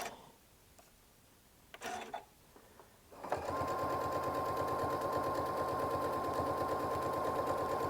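After brief handling noises, a sewing machine starts stitching a quilt in white thread and runs steadily, a close, even rapid whirr with a sustained hum.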